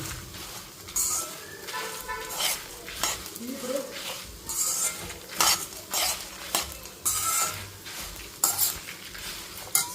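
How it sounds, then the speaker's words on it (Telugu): Curry leaves dry-roast in a pan over a low flame for curry-leaf chutney powder. A spatula stirs them with repeated scraping and metallic clinks against the pan, fairly close, over a faint background hum. "ఇప్పుడు ఇలా సిమ్లోనే వేయించుకోవాలన్నమాట మనం మంచి కలర్ వచ్చే వరకు మంచి ఆరోమా వచ్చే వరకు"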